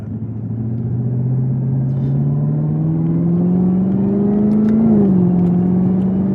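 A 2021 Chevrolet Camaro ZL1 1LE engine drones from inside the cabin while driving, a loud steady tone climbing slowly in pitch as the car accelerates, then dipping briefly at a shift before settling again.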